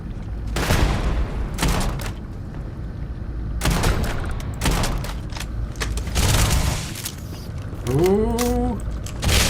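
Grenade explosions go off in Starfield combat, several heavy booms and bursts of gunfire recurring through a dense, loud barrage, with a short creaking mechanical whine near the end.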